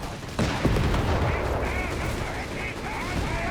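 Gunfire and explosions from a Grant tank engaging German troops in the Company of Heroes 3 battle game, a sudden burst followed by sustained rumbling battle noise and overlapping game sounds.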